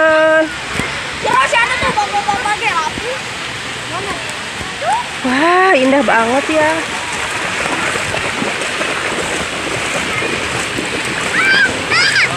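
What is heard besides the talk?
wave pool water splashing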